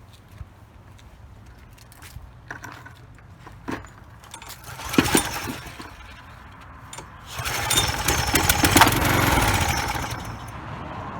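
A Troy-Bilt push trimmer's small engine is pulled and coughs briefly to life on carb cleaner, then revs up loud and rough near the end after clattering handling noises, with no talking.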